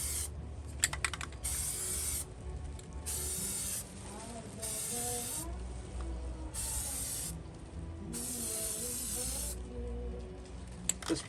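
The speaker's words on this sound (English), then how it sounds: "now I'm just going to spray the primer on it to coat it for now" Aerosol spray can of primer sprayed onto a rust spot on a car, in repeated hissing bursts of about a second each with short pauses between, close and steady.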